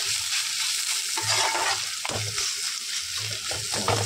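Vegetables sizzle and crackle in a hot pan, with periodic stirring scrapes every second or so, close up and without talking.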